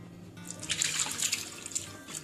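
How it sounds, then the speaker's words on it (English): Curdled milk strained through cheesecloth splashes and trickles steadily, a close, bright watery pour lasting a couple of seconds with no talking. "now we are going to immediately strain it"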